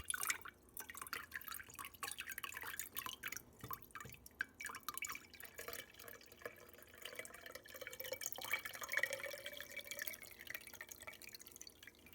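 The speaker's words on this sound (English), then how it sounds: "into a quart-sized mason jar through this tea strainer so that we don't get any of the plant material in with our floral charged and solarized water." Quiet trickle and patter of flower essence water straining through a small tea strainer into a quart-sized mason jar, a soft continuous pouring with faint drips, fairly close and low in level.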